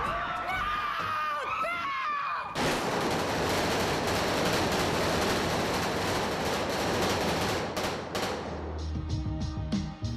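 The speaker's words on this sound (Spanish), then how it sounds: "la matanza en la boda de Kill Bill, donde solo oímos los disparos" A film's wedding massacre scene plays from inside a church as a dense, loud burst of rapid gunfire, following a few seconds of mixed sound and tapering into sporadic shots.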